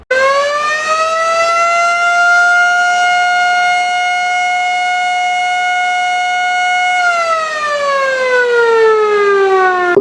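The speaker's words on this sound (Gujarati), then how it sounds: "આ સાયરન 5 કિલોમીટરની રેન્જ ધરાવે છે" A village civil defense alert siren on the Patan border, a loud, close wail that rises, holds a long steady tone, then winds down near the end, alone with no talk.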